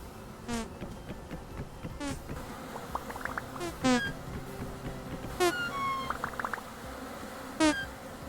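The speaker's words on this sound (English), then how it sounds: "the bees are just going after me" Bees swarm and attack in the survival game Vintage Story, their buzzing whining in repeated sharp bursts over a steady insect drone for several seconds.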